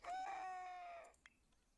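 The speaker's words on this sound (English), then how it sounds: "Rooster's going at it." A single rooster crows once in a video game, a clear, fairly close call lasting about a second, followed by a few faint clicks.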